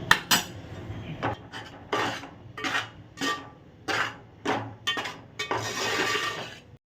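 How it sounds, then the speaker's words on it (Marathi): A metal spoon scrapes and stirs wheat flour being roasted in ghee in a pan for fenugreek laddoos, giving rhythmic, close scraping strokes about every half second with light clinks against the pan and no talk. "हे गव्हाचं पीठ भाजून घ्यायचं आहे।"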